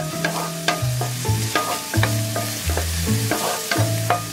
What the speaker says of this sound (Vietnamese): Cho vào nồi 1 muỗng canh dầu và mình cho vào 1 muỗng canh hành tỏi băm, phi lên cho thơm.